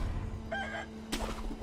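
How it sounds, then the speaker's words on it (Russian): A rooster crows once in Sekiro: Shadows Die Twice, a short clear call standing out over a quiet steady background hum, followed by a brief broadband noise. "Это же знаменитейший супер петух смерти Цюрикена."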